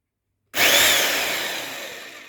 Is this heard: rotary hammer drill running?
yes